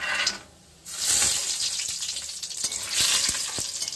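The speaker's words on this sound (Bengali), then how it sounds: "এবার বড়িটাকে ভেজে নিই।" Lentil dumplings (bori) frying in hot oil for a Bengali potato curry, a close crackling sizzle that briefly drops out, then returns with sharp pops and spatters.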